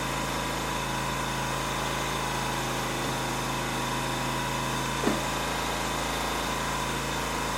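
A Ryobi inverter generator engine runs at a steady idle throughout, a continuous even drone with a constant hum and faint mechanical clatter, and no talking.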